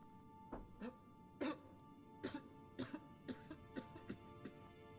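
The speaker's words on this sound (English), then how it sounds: "Why are you coughing like a woman?" A character in the video game Witcher 3 coughs in a string of about ten short, harsh bursts, some doubled, fairly close and alone against a quiet background.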